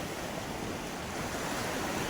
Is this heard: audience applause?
no